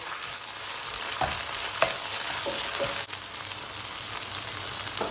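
Chopped tomatoes tossed into sizzling tomato paste in a hot pot, frying with a steady loud hiss while a spoon scrapes and stirs in several distinct strokes.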